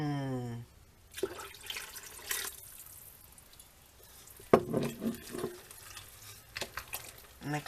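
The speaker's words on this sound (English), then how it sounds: "adding a thing of my home canned bone broth, but you can just add beef stock" Home-canned bone broth is poured into a pot of leftover meatloaf soup, giving intermittent liquid splashes and glugging pours. They come in a few short bursts separated by quieter gaps.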